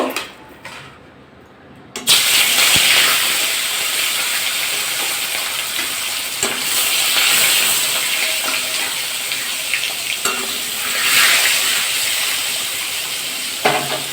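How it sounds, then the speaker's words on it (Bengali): Pieces of rohu fish fry in hot oil in a wok over a low gas flame, a loud, steady sizzle and crackle close by that surges and eases with occasional stirring clinks. "মাছগুলো ভাজা করে নেব"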